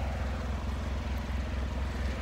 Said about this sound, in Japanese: 最後の純正の音を聞いていただきます